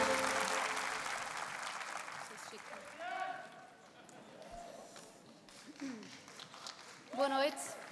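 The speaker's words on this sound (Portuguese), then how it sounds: "sobe ao palco com muitas palmas" At the Globos de Ouro gala, audience applause swells as the winner heads to the stage, then fades beneath voices talking over it.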